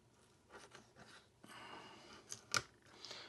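A knife cuts the pectoral fin off a fish fillet during cleaning, giving soft scraping and slicing strokes that build to a sharp crunchy snip near the end. The sound is close and moderately quiet, with no talking.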